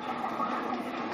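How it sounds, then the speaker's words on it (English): A train rumbling along in Skylanders: Spyro's Adventure, a steady mid-range rolling drone without distinct clicks, short and even in level. "see if the train can actually get through"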